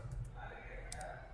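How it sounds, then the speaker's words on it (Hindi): A few faint, sharp clicks of typing on a computer keyboard, sparse and quiet, under a low background hum with someone speaking softly. "सो इधर मैं टाइप कर देता हूँ।"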